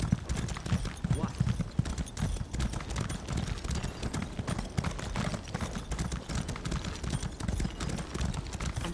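A horse's hooves clip-clop steadily in an Elder Scrolls game, a dense, continuous run of close, hollow thuds with low rumble beneath, and a voice speaking briefly over it.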